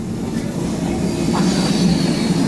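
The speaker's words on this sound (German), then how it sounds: "Wir sind hier mit dem vollen Zug" Steady rumble and rattle of a crowded train in motion, continuous and fairly loud throughout, with faint voices of people riding along.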